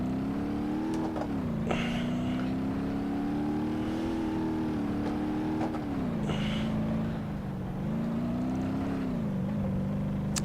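Satsuma 210 car engine in BeamNG.drive, a steady buzzing drone that runs without a break, its pitch dipping and climbing again several times as the car drives, with no voices.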